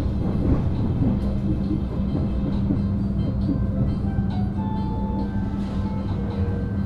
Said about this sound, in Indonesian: Ini datangnya kereta api